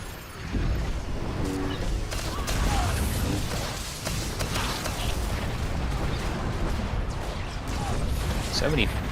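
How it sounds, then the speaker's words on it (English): Rumbling explosions and crackling fire fill a Star Wars: The Old Republic raid boss fight continuously, with bursts of booms layered over a dense, noisy game soundscape. "So much fire and explosions."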